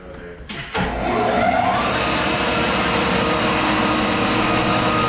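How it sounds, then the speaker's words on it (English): A big floor sander cranks up after a couple of sharp knocks, its motor settling into a loud, steady drone and hum that continues close by without pause. "We have young Charles over here getting ready to crank up that big sander"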